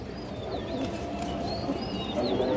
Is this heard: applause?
no